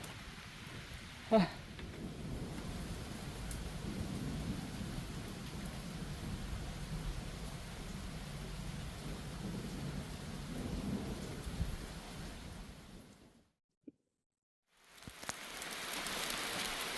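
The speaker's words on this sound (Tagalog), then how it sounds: "Lalong lumalakas ang ulan." Steady heavy rain pours throughout at Barr Lake State Park, Colorado, with a sharp thunder crack early on; the downpour cuts out briefly near the end before returning.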